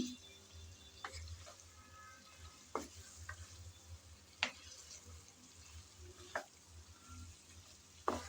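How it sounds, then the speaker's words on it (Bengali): Drumstick (moringa) pieces are sautéed with spices in a pan. A faint, low sizzle sits under sharp, well-spaced spatula taps and scrapes every second or two. "আমি মশলা কষিয়ে তারপর ডাঁটাগুলো ভালোভাবে কষিয়ে নিচ্ছি।"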